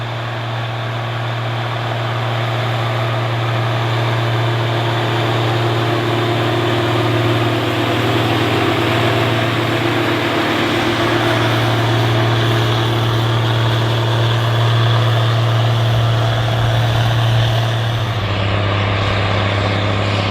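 A large tractor pulls a field cultivator through soil, its engine droning in a steady, loud, continuous hum with a strong low tone that holds for the full stretch and dips slightly near the end.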